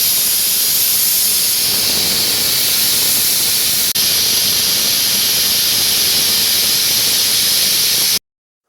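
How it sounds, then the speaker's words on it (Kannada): Pressure cooker on the stove cooking tough chicken, releasing a loud, steady hiss of steam that runs unbroken for several seconds, with one brief click partway through, then stops abruptly. "ಕುಕ್ಕರ್ ಲಿಡ್ನ ಮುಚ್ಚಿಬಿಟ್ಟು ನಾನಿಲ್ಲಿ 10 ವಿಷಲ್ನ ಹಾಕಿಸ್ತಿದ್ದೀನಿ"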